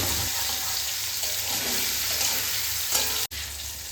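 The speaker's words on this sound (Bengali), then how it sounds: "তো এবার মশলাটাকে খুব ভালোভাবে ভেজে নেব।" Spices frying in a hot pan give a dense, loud, even sizzle that stays constant at close range, with a faint stirring scrape near the end and a brief cut just after; no voices.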